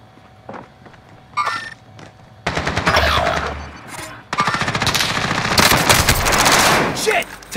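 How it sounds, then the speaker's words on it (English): Call of Duty automatic gunfire in a multiplayer match on Xbox Series X: dense bursts of rapid machine-gun shots, loud and nearly continuous for several seconds after a few scattered earlier shots. "Taking fire!"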